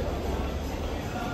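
A passenger train on the Bengaluru to Sagar line pulls away from the platform, heard from inside the coach as a steady, dense rumble with a low hum running throughout.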